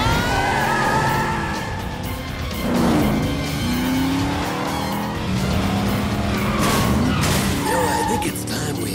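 Cartoon cars drag racing: loud, continuous engine roars with repeated tire squeals and skids rising and falling over the whole stretch.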